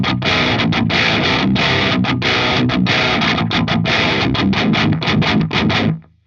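Electric guitar through a Joyo Dark Flame modern metal distortion pedal at a low gain setting, playing loud, steady, chugging rhythmic chords with short choppy gaps, ringing out and stopping cleanly near the end.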